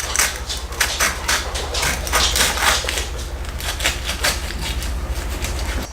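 A knife saws through a BLT sandwich on a cutting surface, producing a quick series of close, crunchy, rhythmic scraping strokes over a low hum, with nobody speaking.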